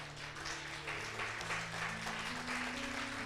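A church congregation applauding during a sermon on the resurrection of Jesus Christ, a sustained, moderately distant crowd clapping with a held sustained tone, likely organ or keyboard, running underneath.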